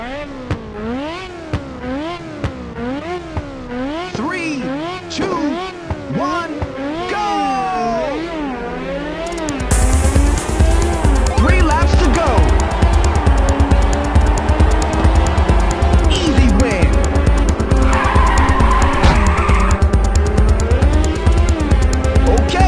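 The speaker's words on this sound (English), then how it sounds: "All right, it's time to fire up those engines" Race car engines in Ridge Racer on the PSP at Lakeside Parkway: warbling revs rise and fall at first, then a loud, sustained roar of accelerating engines with squealing skids, close and continuous.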